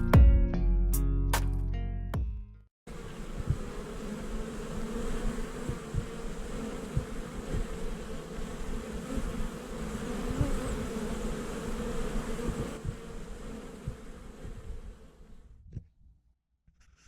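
Honeybees buzz around freshly opened hives, a dense, steady droning hum that holds loud and continuous for over twelve seconds after a brief burst of other sound at the start, then fades away.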